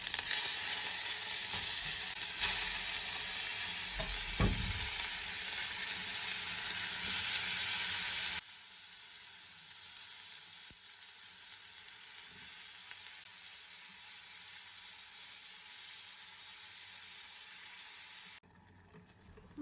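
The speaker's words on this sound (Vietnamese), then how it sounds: "Cắt cà chua từng miếng cau và rán vàng." Tomato pieces fry in hot oil in a pan, a loud steady sizzle that drops abruptly to a softer, quieter crackle partway through, with no talking.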